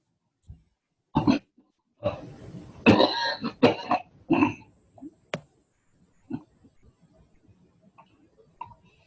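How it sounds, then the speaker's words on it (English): A series of harsh coughs and throat-clearing bursts during a mitigation planning team meeting, close by, scattered irregularly with quiet gaps between them. "we'd recognize that cough anywhere."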